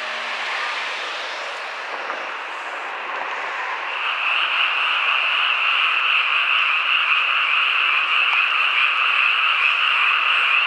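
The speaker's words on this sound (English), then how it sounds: "I love the sound of the little froggies that you can hear" A dense chorus of small frogs croaks continuously from below a bridge at night in rural Japan, a steady high trilling wash that swells louder partway through, with no voices.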